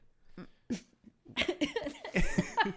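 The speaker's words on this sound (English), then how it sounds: "I'm coughing." A few short, harsh coughs at close range, spaced out at first and then coming in a quick, busier cluster.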